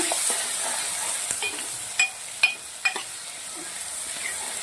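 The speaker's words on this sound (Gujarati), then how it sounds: "ડુંગળીને તેલના અંદર સરસ કાતળવાળી છે" Onions sauté in oil in a pan, giving a soft, steady background sizzle broken by three or four sharp spatula clicks against the pan near the middle.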